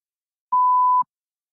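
A single clean electronic beep, a steady mid-pitched tone lasting about half a second, alone against silence.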